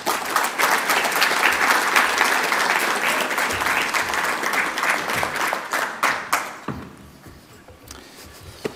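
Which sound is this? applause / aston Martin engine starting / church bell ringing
applause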